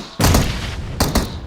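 Gunfire in the PUBG Mobile battle royale game: a loud, close burst of shots, then a short gap and two more sharp cracks close together.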